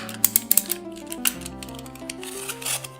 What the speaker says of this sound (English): you just score along the MDF as usual until it slices through